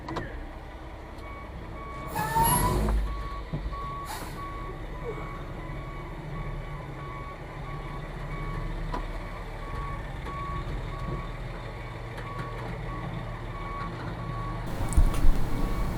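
A concrete truck backs up at a residential foundation pour, its reversing alarm beeping steadily at a distance under a low diesel rumble, with brief clanks and faint background voices.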